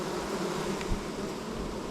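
Honey bees buzzing at a hive during a May inspection, a dense continuous drone of many bees, steady and close throughout.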